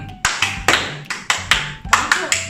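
Rhythmic scout clap (tepuk pengakap) performed by a group: sharp, evenly spaced hand claps in short bursts, about nine strikes across a couple of seconds, with faint voices underneath.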